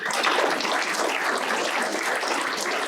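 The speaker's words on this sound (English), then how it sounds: "Give him a round of applause." A room full of diners at a chamber of commerce annual dinner applauds, a dense, even wash of clapping from many hands that stays loud and steady throughout.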